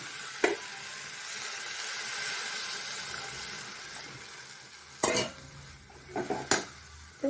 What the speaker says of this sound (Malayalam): എന്നിട്ട് നമുക്ക് പുളിവെള്ളം ഒഴിക്കാം.